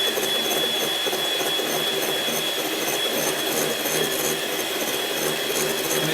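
An electric mixer whisks meringue for a raspberry pavlova on high speed, giving a loud, steady whirring drone with a thin high whine that runs unbroken throughout, with no voices.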